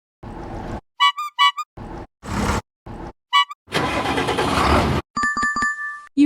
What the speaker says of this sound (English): Sound is tractor starting